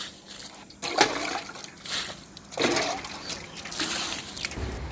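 Water poured onto a potted plant after coffee grounds are sprinkled over the soil, heard as intermittent splashing, dripping and trickling close by, in short uneven bursts.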